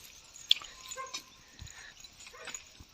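A dog barks once sharply, then whimpers and yips in short, high whines, fairly close and quiet, with no speech.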